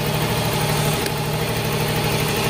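A Yamaha Mio M3 fuel-injected scooter engine runs close and loud with a steady, buzzing drone that holds at a raised RPM, no voices over it.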